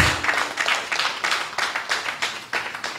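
A church congregation clapping together in a fairly quick, steady rhythm, a mid-distance burst of many hands with a little room echo.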